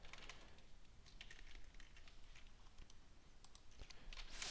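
Rapid, steady clicking of a computer keyboard as code is typed, faint and close with light irregular keystrokes and no voices.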